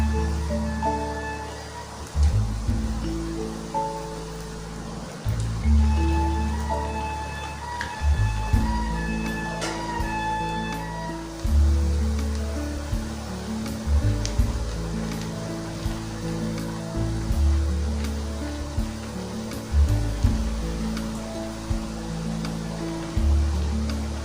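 Urad dal vadas deep-frying in hot oil, a steady bubbling sizzle with surging, rhythmic swells as the fritters are turned, close and moderately loud with no talk.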